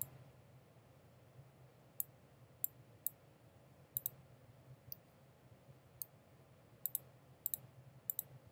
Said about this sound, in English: So I'm clicking once, clicking again.